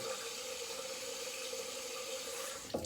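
A bathroom tap runs cold water into a sink for a rinse after shaving, making a steady close gush with a small clink near the end.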